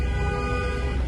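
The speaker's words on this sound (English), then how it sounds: "along with the honking" Car horns honk steadily in traffic near the Atlanta Braves' Truist Park ballpark, a continuous blaring tone that fills the brief moment at close range.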